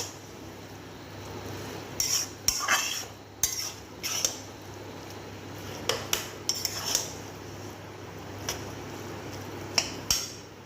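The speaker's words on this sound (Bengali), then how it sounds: "আমি একবার মিক্স করি দেখি। না খুন্তিটা কড়াইটা সরে যাচ্ছে কেন?" A metal spatula stirs and scrapes in a wok that shifts on the stove, giving irregular clinks and clanks spread across the stretch, close and sharp against a quiet kitchen background.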